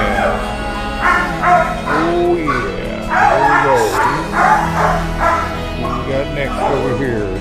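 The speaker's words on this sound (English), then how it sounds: "He's a good-looking dog." Dogs at a shelter bark, yip and whimper in a steady chorus of overlapping calls, loud and close, with a person talking over the noise.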